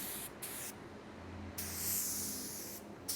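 Spray gun applying primer surfacer to a plastic part, giving a steady, close airy hiss that swells and fades slightly across the clip, with a low hum underneath.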